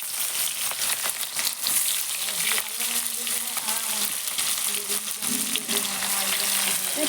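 Chopped onions fry in browned, caramelized sugar in a pan, giving a steady, close sizzling hiss with occasional stirring, while a voice talks faintly underneath.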